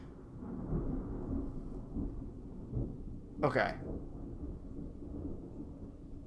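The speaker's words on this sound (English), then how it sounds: "That's gotta be thunder." Thunder outdoors, a low rolling rumble under steady rain with one sharp, bright crack midway. A voice speaks briefly.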